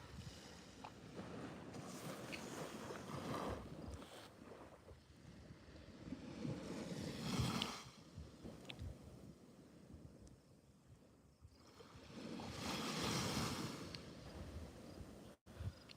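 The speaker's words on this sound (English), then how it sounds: "let's just listen to the sound of the waves for a second," Ocean waves on a Nova Scotia beach roll in and wash out in slow surges, with steady wind rumble against the microphone and no voices.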